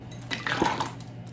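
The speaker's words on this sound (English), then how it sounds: "Now we're gonna add ice." Ice cubes dropped into a drink glass, a brief cluster of clinks and rattles over about a second at close range, moderately loud, with no talking.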